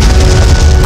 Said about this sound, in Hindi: देखिए कैसे आग उगल रही है अकबर की तोपें